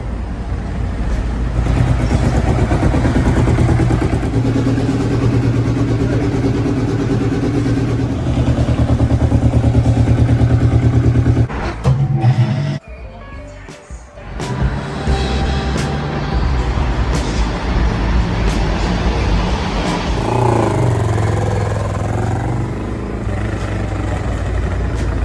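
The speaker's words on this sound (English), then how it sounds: "On the way to take my bike" A motorcycle ridden on the road on the way to its MOT, engine droning steadily and loudly with wind rush, dropping away briefly midway before picking back up.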